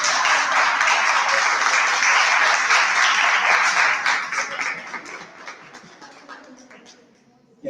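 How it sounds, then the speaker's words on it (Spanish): A lecture audience gives a strong round of applause for professor Rosana Navarro after a talk on Etty Hillesum; dense clapping holds steady, then thins and fades out near the end. "les pido un fuerte aplauso para Rosana"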